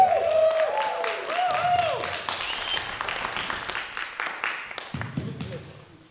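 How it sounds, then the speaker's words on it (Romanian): Audience applause for the Italian dancer NICO at a dance event, a steady crowd clapping throughout that swells and fades under an amplified voice and music. "Haideți să-i dăm încă unul de aplauze lui NICO!"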